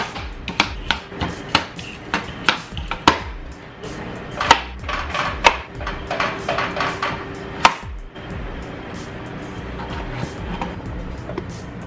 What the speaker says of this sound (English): So he's gonna peel and cut up a potato